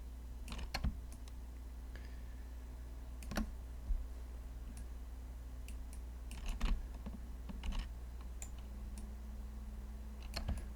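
Sparse, quiet computer mouse clicks while painting materials in Ultra Engine: single and double clicks at irregular intervals over a steady low electrical hum, with no talking.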